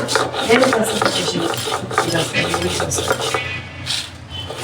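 Dried chili being ground by hand for a home-cooked Ramadan iftar meal, a steady gritty scraping and rubbing that goes on without a break, close and fairly loud.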